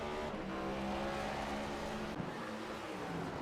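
A stock race car in a racing video game on a road course loses control and spins, its engine roaring loudly and continuously with a brief sharp jolt partway through.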